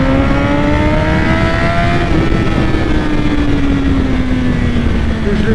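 A BMW S1000RR motorcycle engine humming steadily at close range, pitch easing slightly downward as it holds a continuous drone, with a voice briefly audible over it.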